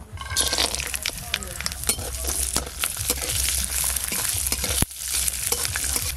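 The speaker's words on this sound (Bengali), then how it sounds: "একটু হালকা করে নেড়ে নিয়েছি" Spices such as ginger, cashews, green chilies and melon seeds stirred lightly in white oil in a pan, giving a steady close sizzle with scraping and clinking spoon strokes throughout.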